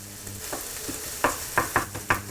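Cabbage for fried cabbage with flour sizzles steadily in a hot pan while a utensil stirs and scrapes in several quick, sharp strokes, close up.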